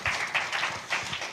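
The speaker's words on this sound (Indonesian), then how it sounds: "Sepakat berikan sorak-sorai dulu yang kencang buat Tuhan kita yang baik." A church congregation clapping and cheering in praise of God, a short burst of applause filling the room with dense, steady clapping.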